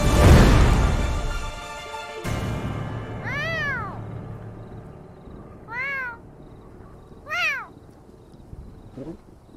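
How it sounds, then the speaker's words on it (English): Animated cat meowing, three clear rising-and-falling meows spaced a couple of seconds apart after a loud opening burst, with softer background sound between. "He changed up the meows and everything."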